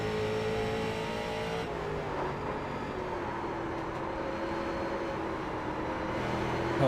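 A Street Stock race car engine in iRacing drones steadily on throttle at the U.S.A International track, a dense mechanical roar that shifts pitch slightly partway through and continues without speech.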